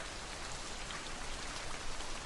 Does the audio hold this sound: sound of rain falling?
yes